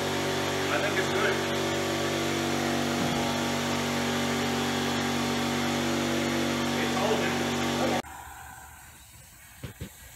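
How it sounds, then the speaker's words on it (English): A small pancake air compressor runs loud and steady at close range, with a continuous motor hum and hiss for about eight seconds before cutting off, leaving quiet room sound and a couple of small knocks. "Now I have a small little pancake compressor which may have to turn on a couple of times."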